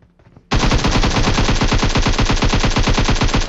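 Rapid automatic gunfire from a fast-firing weapon in PUBG Mobile bursts in abruptly after a quiet moment and rattles on loud and continuous with an even, quick rhythm.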